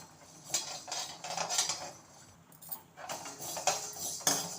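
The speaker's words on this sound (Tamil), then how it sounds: "உளுந்து வறுபட ஆரம்பிச்சிருக்கு." Urad dal dry-roasts in a pan for chutney, stirred with a metal spatula that scrapes and rattles the grains in a steady, repeated rhythm close by.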